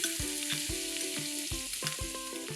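Cumin seeds, hing and chopped onion fry in hot ghee inside a cooker, a quiet sizzle broken by repeated clinks and scrapes of a spoon against the metal, close and without speech.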